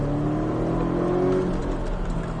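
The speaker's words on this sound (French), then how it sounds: "Et tu réaccélères." A Porsche 718 Cayman S accelerating out of a corner on a race track, a steady rising engine drone heard close and continuous, alone without voices.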